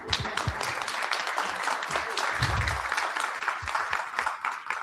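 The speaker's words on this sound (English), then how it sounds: "You guys should give her a round of applause." Audience applause after an introduction at a lunchtime history lecture, a few seconds of steady clapping from a modest crowd, moderately distant.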